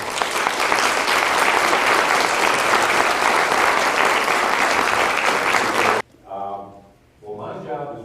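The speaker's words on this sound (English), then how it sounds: "Everyone, give a round of applause for Craig Dellimore." Loud, sustained applause from an audience at a political event with gubernatorial candidates, filling most of the clip before cutting off abruptly, followed by a person starting to talk.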